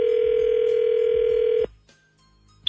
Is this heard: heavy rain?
no